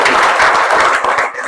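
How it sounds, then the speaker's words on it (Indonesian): Applause for university students fills a hall, a loud, dense burst of many hands clapping that fades slightly at the end. "Tepuk tangan buat mahasiswa."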